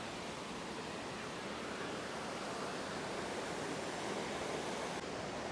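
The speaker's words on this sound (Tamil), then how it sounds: "அதில் இப்படி ஸ்ட்ரக் ஆகி தான் அதுலேருந்து இந்த மாதிரி தண்ணி கீழே விழுது" Water pours steadily over a dam-like waterfall at Narampanawa, Sri Lanka, a dense, continuous rushing roar heard up close with no voices.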